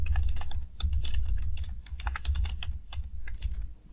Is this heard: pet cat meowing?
no